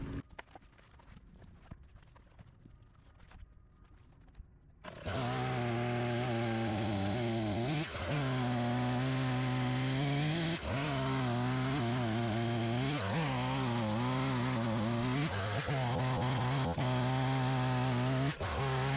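A chainsaw with a dulled chain starts up after a quiet moment and runs loud and close while cutting logs, its pitch dipping and rising as the blade bites into the wood.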